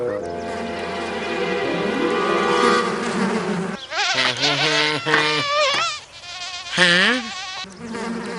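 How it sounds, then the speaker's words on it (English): Cartoon bees buzzing in a dense, droning, tonal hum for the first few seconds, then animated voices speaking over a lighter background. "Bees."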